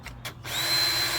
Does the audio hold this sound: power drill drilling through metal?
yes